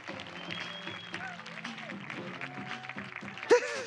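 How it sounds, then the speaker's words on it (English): An audience at a women's sports summit applauds an arriving guest, scattered clapping mixed with cheers and overlapping voices, with a sharp louder shout near the end. "Big round of applause for Margaret Midge Purce."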